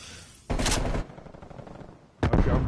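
Two loud, close shotgun blasts go off in a video game match, the first a sustained roar lasting about half a second and the second a sharp burst after a short quiet gap.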